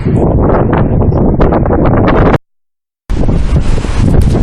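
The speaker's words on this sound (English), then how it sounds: "Excuse the gust of wind if you can hear that in the background." Strong gusts of wind buffet a microphone outdoors, loud continuous rumbling roar that cuts out to silence briefly before resuming just as heavily.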